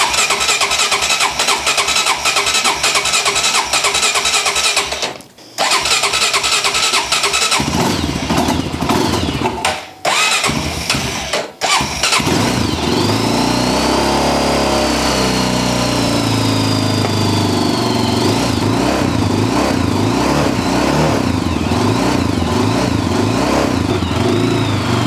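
A Honda TRX400 quad from an auction revival cranks and catches, stuttering through a few brief cutouts before revving up and down loudly, unable to settle into an idle.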